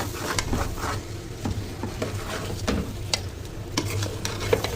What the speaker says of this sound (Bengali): চালগুলো একটু ভালো করে ভেজে তারপর পানি দিয়ে দিব